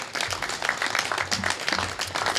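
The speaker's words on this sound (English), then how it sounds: "please give a round of applause" Applause from an audience at a press conference for Distracted Driving Awareness Month, a steady dense patter of many hands clapping throughout, moderately loud and without any speech over it.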